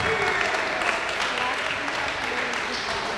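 A small group of girls cheering and clapping in a quiet high school gym during a Ladycat basketball game, a bright steady burst of applause and shouts lasting throughout, fairly close, with a voice over it.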